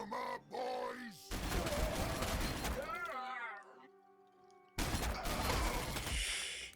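Rapid gunfire bursts from units fighting orcs in the Warhammer 40,000: Sanctus Reach strategy game, loud and dense in two stretches with a quieter gap between, mixed with game voices.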